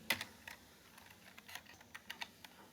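Code being typed on a computer keyboard, a sparse, irregular run of light, close key clicks with short pauses between strokes.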